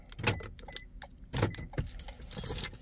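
A set of 2019-or-later Toyota smart keys jangles in several sharp, close metallic bursts, with short pauses between shakes and no talk.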